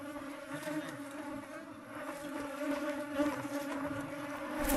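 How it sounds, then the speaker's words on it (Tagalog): A swarm of honey bees nesting under a rock buzzes steadily and close, a dense droning hum that swells and ebbs, with no talking. "Yan, ang dami na pong bubuyog oh."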